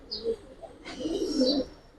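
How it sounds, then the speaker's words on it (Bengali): Silver pigeon chicks of the Giribaz coloring breed coo softly in a few short, low murmuring bursts close by, with a brief sharp knock at the very end. "একেবারে সিলভার হয়ে যাবো সিলভার বেজি কবুতর"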